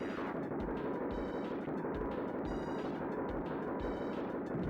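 Rapid spreader gunfire from the Super Smash TV arcade game in tournament play: dense, rhythmic bursts of electronic shots over constant loud action noise, with no voices.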